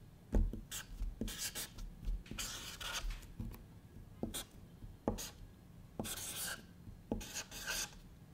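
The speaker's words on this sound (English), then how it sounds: "draw a clock face on a piece of paper" Pen or pencil drawing a round, old-style clock face on a large letter-size sheet of paper, close and fairly quiet, with repeated short scratching and rubbing strokes in an uneven rhythm and no talking.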